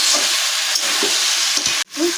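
Dried lotte fish and green chillies frying in a pan for a shutki chorchori give off a loud steady hiss, with scraping stirs and a brief pause near the end.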